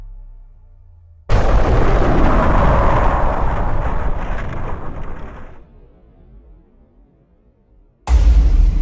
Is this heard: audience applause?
no